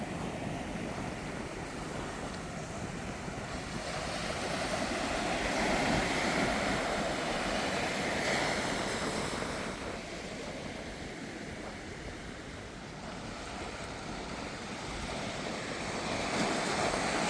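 Big ocean waves break and wash ashore at Port Elliot beach in South Australia, a steady broad roar of surf with gusts of wind buffeting the microphone, swelling and easing over the whole stretch with no talking.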